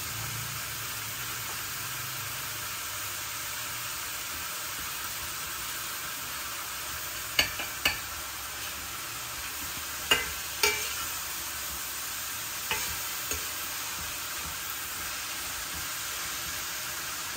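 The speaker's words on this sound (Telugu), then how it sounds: "ఉల్లిపాయలు ఎర్రగా అయ్యే వరకు వేయించుకోవాలి." Onions with a pinch of asafoetida frying in a pan, a steady low sizzle with a few sharp scrapes and taps of a spoon against the pan as they are stirred, without talk.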